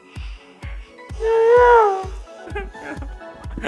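A pet cat gives a single clear, drawn-out meow in the middle, close and fairly loud, while steady soft thumping taps repeat throughout and voices murmur around it.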